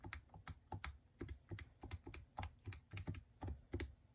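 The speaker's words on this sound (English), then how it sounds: "And then I can type the entire left-hand side into the calculator." Fingers tapping out numbers on a calculator keypad during a math lesson: a quick, steady run of close, crisp key clicks with no voice over them.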